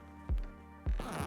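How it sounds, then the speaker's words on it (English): Zippers on a Cynova backpack for the DJI Mavic 3 drone are pulled closed, two quick rasping zips about half a second apart, close and fairly loud, with no talking. "So when you zip it up, you can actually snap them together"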